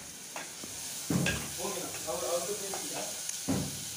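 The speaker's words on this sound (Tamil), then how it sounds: "எங்கள் அம்மா வந்து இந்த தக்காளி வெங்காயம்லாம் ஃப்ரை பண்ணுறாங்க" Tomatoes and onions frying in a pan as the base for a Tamil snail gravy, a soft steady sizzle with occasional stirring clinks, close by, with a person speaking over it.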